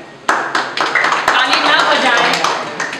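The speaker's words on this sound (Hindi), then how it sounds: "प्लीज तालियां" An audience at a talent hunt acting audition claps in a dense burst of sharp hand claps, loud and close, building into sustained applause over a few seconds.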